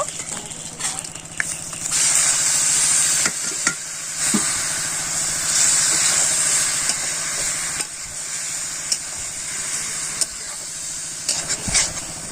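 Boiled bottle gourd hits a hot frying pan with a loud, continuous sizzle, broken by repeated stirring scrapes and a few sharp clicks.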